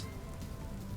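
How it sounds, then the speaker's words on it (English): Rain falls steadily in the video game Vintage Story, a soft, even hiss of drops on surfaces, continuous and fairly quiet with no talking. "And it's rainy over here."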